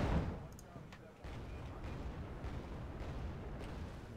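Naval weapons fire in the real-time strategy game Wargame: Red Dragon during a massive ship battle: a dense, continuous wash of distant artillery booms and rumbling gunfire, with an initial louder burst and a few sharper cracks over steady low roar.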